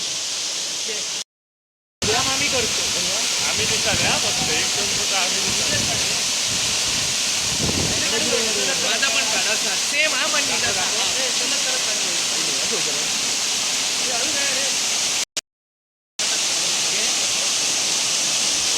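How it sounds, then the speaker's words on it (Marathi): Madkai waterfall in Chaukul village near Amboli pours with a steady, broadband roar and hiss that fills the whole scene, loud and continuous, interrupted briefly by two short dropouts. "चौकूळ गावामध्ये एक अनोखी ओळख आपले राखून आणि टिकून ठेवणारा हा मडकई धबधबा"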